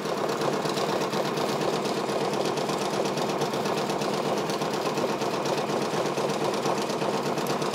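A Brother PRS 100 embroidery machine stitches a patch at raised speed, giving a steady, fast, close mechanical chatter that runs without a break and without talk.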